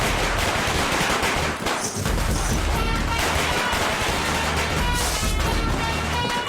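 Rapid, relentless strings of firecrackers popping nonstop, loud and near, like a long cracker chain going off.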